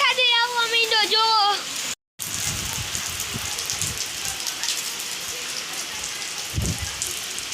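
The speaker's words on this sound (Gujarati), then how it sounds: "હાલો તો મિત્રો વરસાદ આવવા માંડ્યો।" Rain falling across a farm field, a steady broadband patter that sets in after a short break, with a brief whistled or bird-like tone at the start and faint talk now and then underneath.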